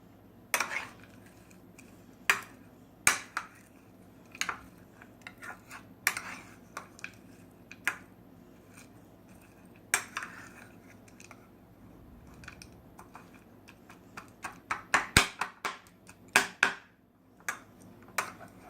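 Salad is tossed and mixed in a bowl, producing sparse, quiet clinks and taps of utensils against the dish, spread irregularly over a soft room background.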